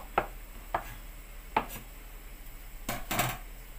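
Several sharp knife strokes against a cutting board, spaced irregularly, followed by a quicker cluster of cuts near the end; close and fairly crisp.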